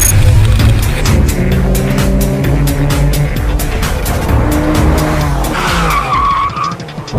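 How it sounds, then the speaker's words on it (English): A Porsche 911 with a PDK dual-clutch transmission drives hard, its engine loud and close, with a rising, pulsing note and clear shifts that fade toward the end. "We're driving a car with a transmission that Porsche calls a PDK"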